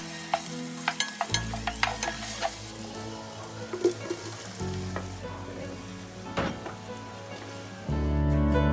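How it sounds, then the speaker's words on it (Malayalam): Ginger, garlic and green chili paste sautéing for biryani masala, a steady close sizzle with frequent clinks and scrapes of stirring, loudening into a fuller fry near the end. "ഇനി പെട്ടെന്ന് തന്നെ ഇഞ്ചി വെളുത്തുള്ളിയും പച്ചമുളക് പേസ്റ്റ് ഇട്ടൊന്ന് വഴറ്റിയെടുക്കാം"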